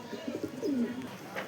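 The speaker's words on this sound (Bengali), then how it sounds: "এই পায়রাটা সুরমিয়া ঘরের পায়রা আছে" A domestic Surmiya pigeon gives a single low, descending coo up close against quiet background noise.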